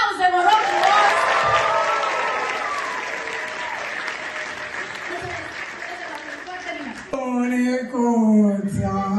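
An audience applauds after a theatre troupe's performance in a prison, with steady sustained clapping. A voice speaks over it and a tonal sound rises near the end.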